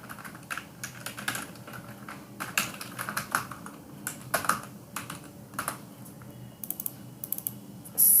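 Fingers tap on a computer keyboard while entering numbers into an MS Excel spreadsheet, a close series of irregular clicks in short bursts with brief pauses between them.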